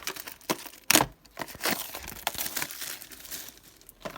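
Cardboard packaging of a Polosmart 10000 mAh powerbank being opened, with crinkling and tearing noises, a sharp rip near the start and softer rustling after, close and moderately loud with no talk.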